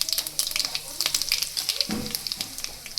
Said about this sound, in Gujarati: તેલ ગરમ થાય એટલે આપણે સૌથી પહેલાં તેમાં નાખી દઈશું રાઈ, ત્યાર પછી જીરું,